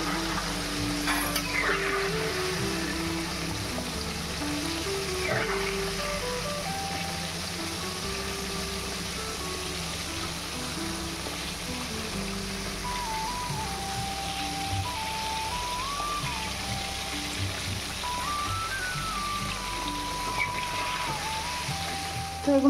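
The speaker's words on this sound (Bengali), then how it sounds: "তো এগুলো কড়কড়া করে ভাজা হয়ে গেছে।" Chicken pieces deep frying in oil give a continuous, rain-like bubbling sizzle throughout, with a wavering melodic tone running over it.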